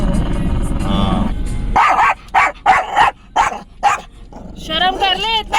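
A stray dog barks at close range, giving a run of five or six sharp barks in a loose rhythm after people talk, then whines and yips at a higher pitch at the end.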